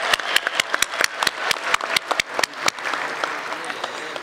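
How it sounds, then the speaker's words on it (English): Sharp, distinct hand claps, fairly sparse and irregular, applaud the people of Zimbabwe at a ceremony proclaiming the country the world's best tourist destination, with a steady background rumble and a voice present. "we have to applaud all the people of Zimbabwe."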